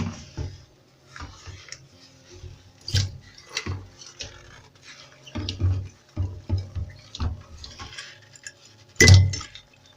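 A glass bottle being cut is dipped into cold water and gives off scattered light clinks and sharp taps, a few louder pings among softer ticks, close and quiet, ending with one brighter crack-like clink.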